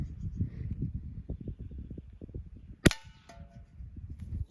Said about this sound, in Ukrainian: Знімаємо з запобіжника і робимо постріл.